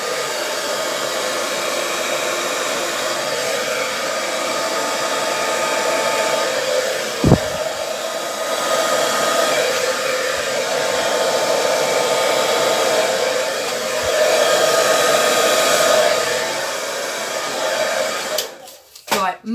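Hair dryer blowing acrylic paint across a canvas in a Dutch pour, a steady loud whirring hiss held close for most of the time, dipping slightly as it moves, with a few small knocks before it shuts off.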